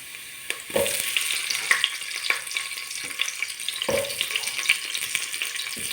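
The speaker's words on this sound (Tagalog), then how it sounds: "After ng luya, lagyan na natin sibuyas." Onions drop into a pan of sizzling ginger for chicken tinola, bringing a close, bright frying hiss with a few sharp thuds and clinks as the pan is worked.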